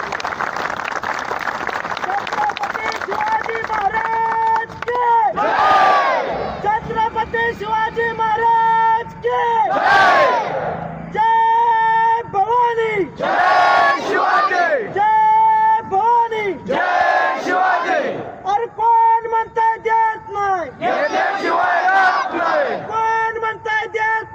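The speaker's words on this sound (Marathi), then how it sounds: "जोरदार टाळ्या वाजवी आणि त्यांच्या नावाचा" A large crowd at a Maratha reservation rally applauds and chants loudly in unison for Manoj Jarange Patil, rhythmic shouted phrases rising and falling over continuous clapping and cheering.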